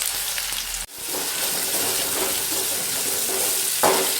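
Ginger frying in hot oil for an Onam inji curry, a dense, continuous hiss with a brief dropout near the start and a slight swell toward the end, close and without voices.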